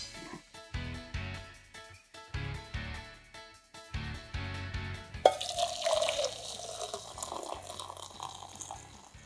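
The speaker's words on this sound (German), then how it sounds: "Die geben wir jetzt in unseren feuerfesten Topf, den wir dafür ausgewählt haben. Und übergießen das Ganze jetzt mit kochend heißem Wasser." Boiling water is poured over hay flowers in a fireproof pot, a steady splashing pour that starts partway through after a run of quieter rhythmic tapping sounds.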